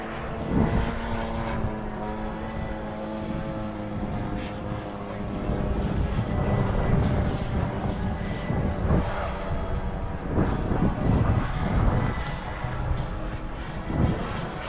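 A radio-controlled P-40 Warhawk model airplane with a DA 50 gas engine flies overhead, giving a steady propeller drone that swells and fades slightly as it passes, with faint voices around it.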